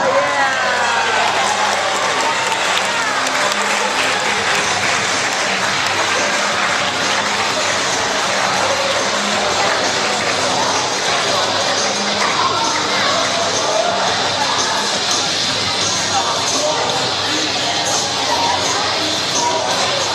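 Dense, steady applause and cheering from a large crowd at a meeting, a continuous wash of clapping with voices mixed in, loud and sustained throughout.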